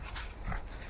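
A dog on a walk gives a short, close bark and whimpering sound against outdoor background noise, one brief burst with no talk.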